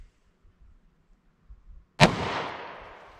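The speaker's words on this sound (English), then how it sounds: "let's see what kind of five shot average velocity we can get with these 357 mag cases. I'm gonna go single action here." A single .357 Magnum revolver shot, fired single action with backwards wadcutter handloads: one sharp, loud, close blast that cuts through near silence and trails off into a long echoing decay.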